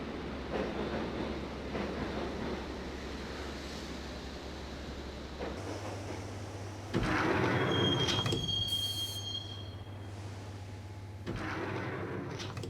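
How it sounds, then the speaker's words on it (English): A train ride in the video game Max Payne: steady rumble of a rail car with a low hum, a high squeal and sliding door sounds midway, no talking. "the train doors had already shut behind me, and I was in for the ride"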